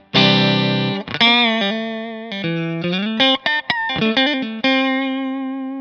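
A clean-ish electric guitar, a Stratocaster in middle pickup position through a Fender Bassman amp profile with no overdrive, plays a short run of notes and chords, bright and forward, with a few quick stops before a final held note.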